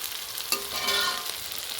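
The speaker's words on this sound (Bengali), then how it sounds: "এই যে মশলার সাথে কষানো হয়ে গেছে আলুটা। বেশ তেল ছেড়ে দিয়েছে।" Potatoes cooked down with spices in oil sizzle steadily in a pan, with a brief scrape or stir near the start and a continuous close frying hiss throughout; no one speaks.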